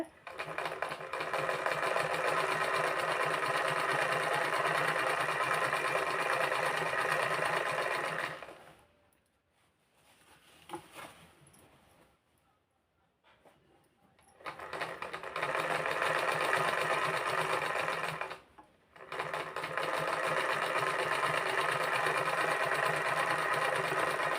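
An electric sewing machine stitches the picot and fall onto a saree, buzzing in a loud, steady run that stops for several quiet seconds before resuming with a brief pause.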